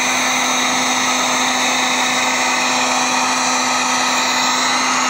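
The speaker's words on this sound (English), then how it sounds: "Just drying it off with the heat gun here." A heat gun blows steadily on a restored 1972 Corvette rams horn exhaust manifold, drying it after electrolytic cleaning, with a loud, constant motor whine and airy hiss close by.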